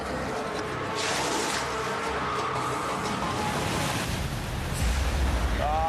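Ocean waves break and wash around a small dinghy on a lobster-hunting trip off Australia, a continuous surf roar with wind buffeting the microphone and a swell that grows stronger near the end.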